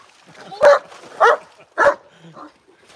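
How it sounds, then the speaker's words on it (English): A dog barks at waves on a shore, giving three loud, evenly spaced barks close by, followed by a softer yip. "something about waves just sets him off, and so he does bark"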